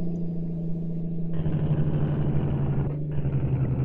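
A DAF truck with a modded engine sound rumbles in Euro Truck Simulator 2, a steady low drone that swells louder after a second and a half, dips briefly, then carries on.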